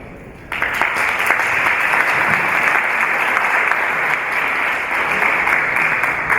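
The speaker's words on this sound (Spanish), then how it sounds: "Por lo tanto, solicitamos un fuerte aplauso." Sustained audience applause at a film club session, steady, full clapping from a crowd that starts abruptly and holds at an even loudness to the end.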